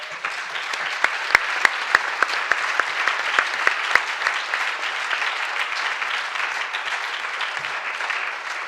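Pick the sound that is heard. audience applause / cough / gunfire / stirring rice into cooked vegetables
audience applause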